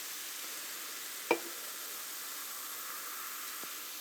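Carbonated sparkling water fizzing in a mug of ice gives a continuous quiet hiss with fine crackle, broken by a single small clink early on and a faint tick later.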